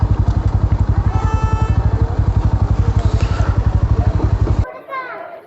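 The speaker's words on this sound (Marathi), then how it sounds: "इथं पार्क करतो बाईक" A motorcycle idles close by near Kopeshwar temple in Khidrapur, its loud, steady rhythmic engine pulse running until the engine is switched off near the end, leaving quieter ambient sound.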